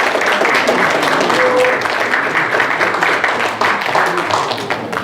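Audience applause filling an indoor award ceremony hall during a plaque presentation, sustained clapping from a large crowd at steady loudness throughout, with a faint voice briefly audible beneath.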